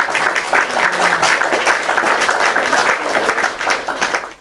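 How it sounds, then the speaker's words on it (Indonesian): Applause from the audience at an Islam versus Christianity debate, a dense wash of clapping that holds steady and loud for several seconds before fading at the end. "Oke, tepuk tangan."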